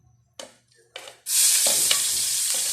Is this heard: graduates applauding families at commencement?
no